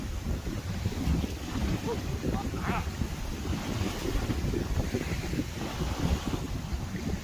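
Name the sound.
wind blowing outdoors on island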